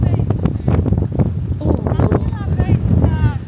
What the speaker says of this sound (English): The wind's up today.